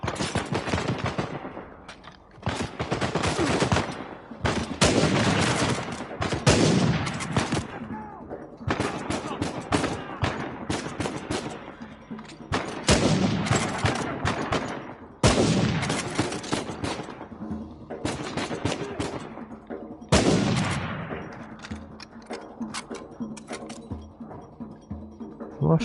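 Dense bursts of rapid automatic gunfire and single shots from the video game Uncharted 4, loud and near, coming in repeated waves with brief lulls between volleys.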